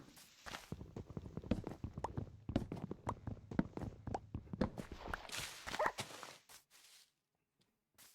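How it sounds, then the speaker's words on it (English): A video-game dog barks and yelps in a rapid series of sharp close calls, louder toward the end before cutting to near silence. "It's doing barking noises like they usually yelp when they get hurt."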